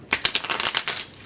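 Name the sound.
card shuffling in video game Tails of Iron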